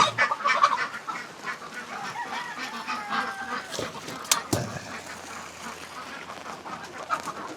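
Ducks and geese honk and quack on a wet farm morning in the barnyard, with scattered calls at moderate distance over a steady rain-soaked background.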